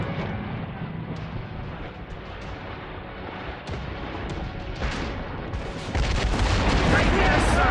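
Mortar and cannon fire in a ship battle at Quiberon Bay in Assassin's Creed Rogue: distant booms and heavy rumbling under a dense battle din that grows louder toward the end, with voices in the mix.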